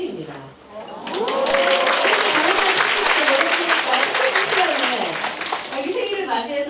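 A lecture audience breaks into applause, rising quickly into a loud, dense burst of clapping with some voices and laughter mixed in, then tapering as a speaker talks over it.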